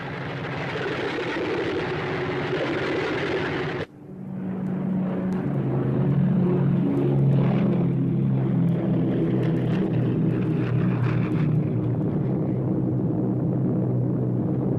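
A B-24 Liberator's propeller engines in flight, a loud, steady droning rumble with a sharp cut near four seconds, after which a lower, throbbing engine drone carries on unbroken.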